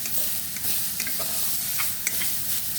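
Onion and beetroot fry in a pan with a dense, close crackling sizzle and stirring scrapes throughout a short burst.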